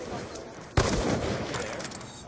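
In a first-person shooter game on the Cargo map, a single loud, sharp gunshot fires through a wall, followed by a short rumbling decay, heard close with no clear speech.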